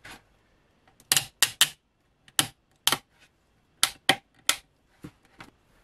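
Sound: ratcheting clamps being tightened on a Mandalorian pauldron

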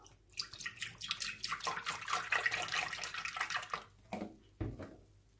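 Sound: half a litre of milk poured into a Thermomix

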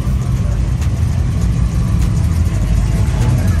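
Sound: Dodge Charger R/T engine rolling out

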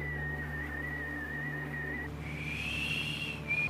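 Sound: whistling

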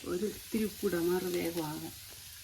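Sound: onions sautéing in a pan until brown

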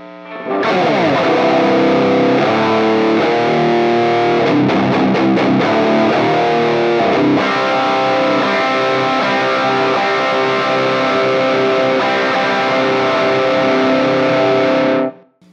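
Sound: electric guitar through Tacape Krank in a Box distortion pedal

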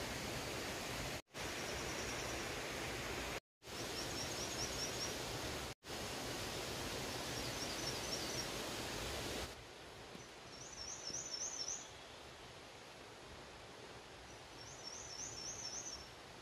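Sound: mountain stream water and birds on Jirisan trail

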